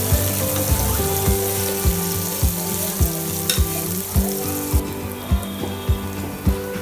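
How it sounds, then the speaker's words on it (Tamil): Small onions and crushed garlic sizzle loudly in a pan for a fish curry, with a constant frying hiss broken by regular rhythmic scrapes and taps of a spoon stirring roughly once a second. "நம்ம நறுக்கி வச்சிருக்கிற சின்ன வெங்காயத்தை சேர்த்துட்டு அதோட 4 பூண்டு நல்லா தட்டி சேர்த்துக்கோங்க"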